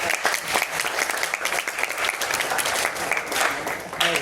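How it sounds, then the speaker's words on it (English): Audience at a college Google Cloud Facilitator Study Jam event claps in a lively, dense burst of applause, close and continuous with slight swells, without speech on top. "please give an applause to Harshit."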